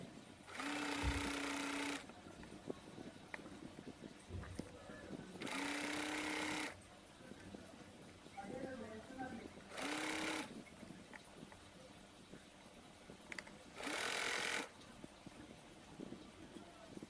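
A sewing machine stitching a blouse runs in four separate bursts of steady whirring hum, each lasting about one to two seconds. Quiet pauses separate the bursts, with faint room noise in between.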